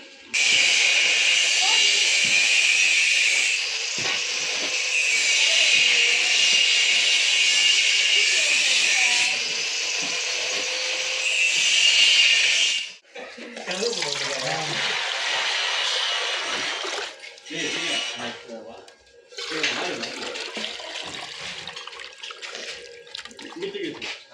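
Water pours steadily into a large pot to cook rice for a big mutton biryani, a loud continuous hissing splash that breaks off and restarts in several bursts, with someone talking.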